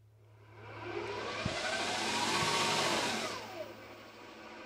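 An electric motor running with no load, its whine rising as it speeds up, holding steady at a high pitch, then winding back down, with a couple of faint clicks.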